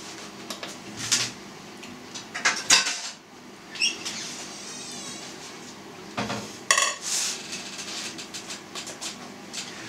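Plates and dishes clatter and clink in a few sharp bursts nearby, with quieter pauses between the handling.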